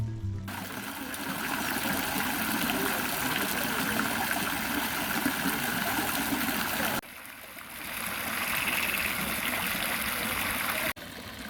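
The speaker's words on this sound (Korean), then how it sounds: "이 정원에서 가장 인상 깊은 건 끊임없이 흐르는 물소리예요." Steady water flowing and trickling from small garden fountains in the Generalife water gardens of the Alhambra, Granada, a continuous close babble that runs alone with no voices and breaks briefly twice.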